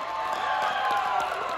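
Audience applause at the Anime Los Angeles opening ceremony, a steady wash of clapping and crowd cheering with scattered whoops, fairly distant and continuous throughout.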